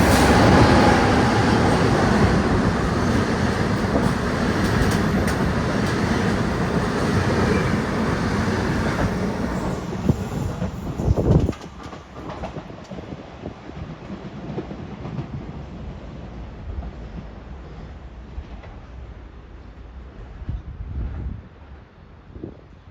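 Train arriving or passing through Padova railway station in Italy, a loud sustained rumble and rolling roar that cuts off sharply midway, followed by quieter station ambience with occasional clanks and a distant rumble swelling again.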